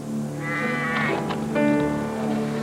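Sheep bleat repeatedly in a rural Scottish Highland glen, several overlapping calls rising and falling at close range with no voices heard.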